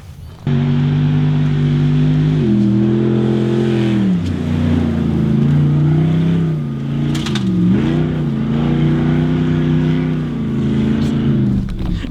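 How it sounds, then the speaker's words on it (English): A car engine on an outback dirt road in Australia, loud and close throughout, its tone rising and dipping as it drives past, with no talking over it. "Wait for some more cars to come through."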